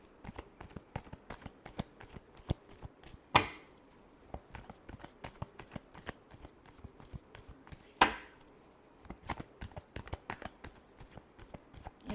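Tarot cards are shuffled in a steady run of crisp riffling clicks and flutters across the whole stretch, punctuated by two louder slaps as the deck is squared, close and fairly quiet with no talk.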